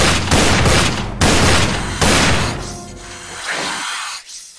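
Gunfire aimed at a snake in a Resident Evil parody, several loud rapid bursts of shots close up, each followed by a short pause, then fading into echoing quieter noise.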